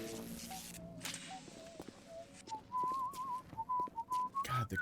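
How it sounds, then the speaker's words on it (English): An eerie, wavering tune whistled by a single figure in BioShock rises and falls in pitch, moderately close, with faint footsteps and clatter underneath and no talking. "joy whistle still bugs me out"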